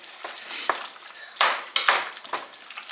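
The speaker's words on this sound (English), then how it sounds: "Get it all stirred up." Mac and cheese sauce with cayenne pepper gets stirred in a pot, giving soft scraping swishes and a few clinks in short bursts, fairly close and quiet.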